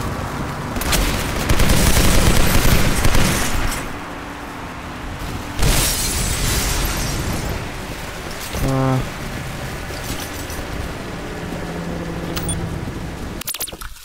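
Explosions in a video game's final Legendary mission boom in loud bursts, with a short rapid burst of gunfire and sustained battle noise between them.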